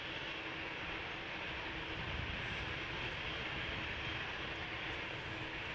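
An easyJet Airbus A319 bound for Manchester departs Amsterdam Schiphol on a crosswindy day, a steady broad engine roar held at even loudness throughout, with no talk.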